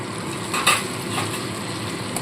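Yogurt and water are stirred into a banana-flower malai kofta curry, a continuous close simmering hiss with soft scraping strokes and one brighter clink partway through.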